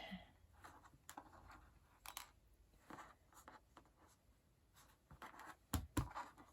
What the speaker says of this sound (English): We're still going to draw a line from one corner to the other corner.